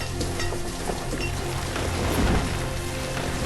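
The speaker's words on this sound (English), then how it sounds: "A little bit of rain here." Steady rain hisses across the whole stretch in the city-building game Banished, a dense, even wash of falling drops with no talk over it.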